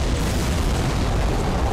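A deep, rumbling ion cannon blast from the Renegade X video game fills the whole moment, a dense, sustained roar with no speech over it.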